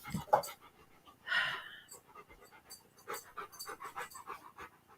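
A dog panting near the microphone in quick, rhythmic breathy puffs, with a louder burst early on and softer repeated breaths after, a voice speaking faintly in between.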